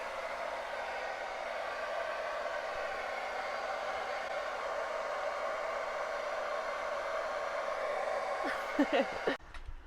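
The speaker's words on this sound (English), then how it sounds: "Probably grab the blow dryer because I'm in a rush." Blow dryer fitted with a diffuser and set on low, giving a steady, even whoosh that runs close by for the whole stretch before a brief clatter of handling at the very end.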